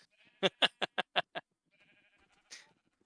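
Sheep in Minecraft give a quick run of six loud bleats, then a quieter bleat a second later, with faint farm-animal noise between and no talking.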